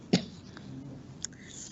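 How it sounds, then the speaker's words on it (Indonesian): A single short, sharp cough from a teacher leading a virtual workshop, heard near and fairly soft, followed by a faint second burst and quiet room tone. "sebentar, saya mau batuk."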